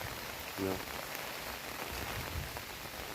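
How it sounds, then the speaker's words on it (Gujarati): Steady heavy monsoon rain hisses continuously over farm fields, a dense wash of falling water with a brief faint tonal blip near the start. "આટલો વરસાદ છે"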